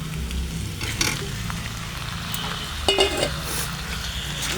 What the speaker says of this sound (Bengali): ডিম দিয়ে ভালো করে আরেকটু অল্প কষিয়ে নেব।